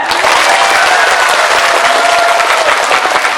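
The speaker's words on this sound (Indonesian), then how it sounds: "Jamaah, sebelumnya tepuk tangan dulu untuk panitia." A congregation at a large outdoor Islamic religious gathering applauds the organizing committee, a dense, loud, steady wash of clapping from many hands filling the whole stretch with a faint murmur of crowd beneath.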